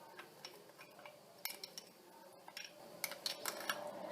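A spoon stirs a mixture of instant yeast, sugar, salt and water in a bowl, making faint, irregular clinks and scrapes against the bowl in a quiet room.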